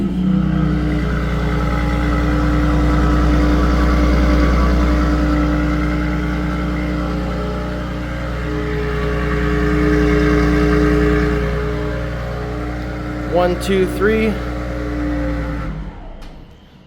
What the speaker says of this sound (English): that is what the remote engine start, cold start sounds like